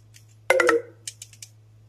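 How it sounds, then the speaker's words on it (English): Mobile phone notification sound, a short bright tonal chime burst followed by a few faint clicks, against a low steady hum. "That was just my phone being stupid."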